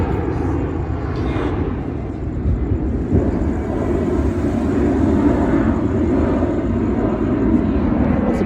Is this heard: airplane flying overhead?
yes